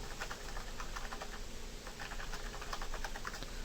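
Rapid, uneven clicking of fingers typing on a computer keyboard, close and moderately quiet, with short pauses between bursts of keystrokes.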